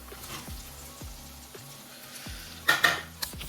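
Snails go into a pot of pepper sauce with soft metallic scrapes and clinks, a faint background sizzle, and a couple of sharper utensil knocks near the end, with no voices.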